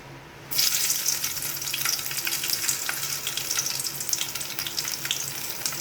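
Garlic is dropped into a hot pan for a green bean stir-fry and starts a sudden, steady sizzle that carries on alone at moderate volume.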